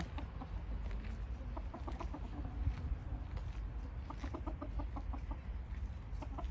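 Several chickens cluck in short, rhythmic bursts over a steady outdoor background hum on a farm near Stuttgart, Germany, moderately close and fairly quiet.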